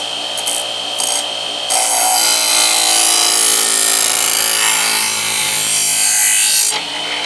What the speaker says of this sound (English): I'm going to put pressure on the knife with my hands, and we're just going to go back until we get a burr